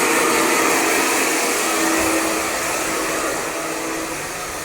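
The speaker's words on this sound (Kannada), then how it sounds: "ಏರ್ ಡ್ರೈಯರ್ ಎಲ್ಲ ಇಟ್ಕೊಂಡು ಬಿಸಿ ಹೊಡಿತಿ" A hair dryer blows hot air onto a shirt, producing a steady, close, even whoosh that holds constant and fades slightly toward the end, with no talking.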